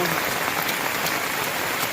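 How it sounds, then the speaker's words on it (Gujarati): Heavy rain pours down in a dense, constant roar, drumming loudly and evenly on nearby surfaces. "આજે આપણે બેહુમાં આવતા જ વરસાદ ધોધમાર આવી ગયો છે અને વરસાદ થઈ ગયો છે ચાલુ."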